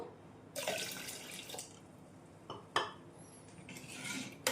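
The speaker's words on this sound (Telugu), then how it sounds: "ఇప్పుడు అలానే కొంచెం నీళ్ళు వేసుకుందాం" Water is poured into a cooking pot while making Nellore-style pappu pulusu, a tamarind lentil stew. It comes as splashy, rushing bursts with a few metallic clinks of the pot, close by and with no talking.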